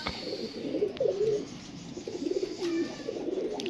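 A female pigeon coos softly nearby, a few low throaty warbling calls in short phrases over quiet background hiss.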